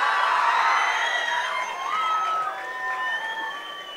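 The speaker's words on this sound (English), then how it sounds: "Can I have a big round of applause?" A large concert crowd cheers and shouts with high whoops and whistles for a Chennai-based band, loud and continuous, fading slightly toward the end.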